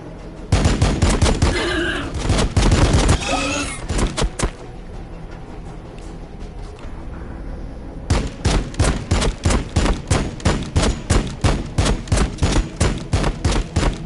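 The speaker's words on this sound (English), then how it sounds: "All these shots and you couldn't hit them once." Rapid bursts of gunfire from Chaos Marines in the Warhammer 40k Battlesector strategy game, dense overlapping volleys early on, a quieter lull, then a steady rhythmic run of loud repeated shots to the end.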